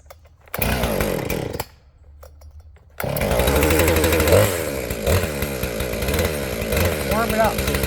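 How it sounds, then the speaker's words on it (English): A Husqvarna 460 Rancher chainsaw sputters briefly, stops, then fires up and runs in a loud, steady, buzzing idle to warm up, close by and after the choke is pulled. "Warm it up."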